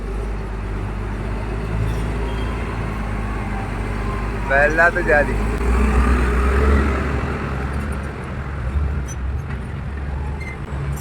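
Road traffic rolls past beneath the NH66 flyover construction site, a steady low rumble of car and truck engines with a brief beep, while someone talks over it.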